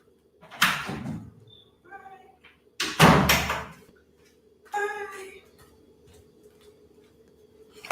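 A door is opened to let a cat out, giving a few loud knocks and thumps at close range, with a person's brief speech in between.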